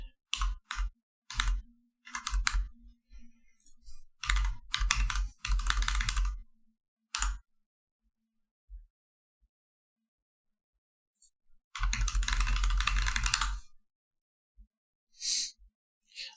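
Bursts of computer keyboard typing, close and fairly loud, come in irregular clusters with long silent gaps between them and one longer continuous run of keystrokes near the end.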